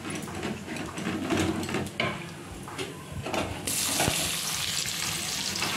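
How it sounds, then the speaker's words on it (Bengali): Bay leaves and cumin seeds hit hot oil in a heated kadai, giving a continuous crackling sizzle with scraping, clinking stirs. A sharper hiss surges partway through. "তেজপাতা ফোড়ন দিয়ে দিলাম।"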